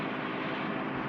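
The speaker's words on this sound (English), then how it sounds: "that's his helicopter. Look." Helicopter arriving at an island, a steady broadband engine and rotor drone heard briefly and evenly loud, with no talk.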